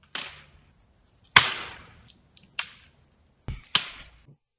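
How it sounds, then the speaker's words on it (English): Branches snapping in a redwood forest: a few sharp, loud cracks spaced over several seconds, each trailing off in a brief splintering rustle, with a double snap near the end and no voices. "And how about some branch breaks?"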